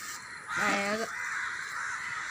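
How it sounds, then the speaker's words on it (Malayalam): A large flock of crows caws during rain. One loud, harsh caw rises over a continuous chorus of more distant cawing. "ഇത്ര കാക്കകളുണ്ടായിരുന്നു ഈ ലോകത്ത്"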